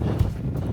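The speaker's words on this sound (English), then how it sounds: "it's a little bit windy up here" Gusty wind buffets a microphone on an exposed Dartmoor hillside, a steady low rumble with a stronger gust near the start, close and fairly loud.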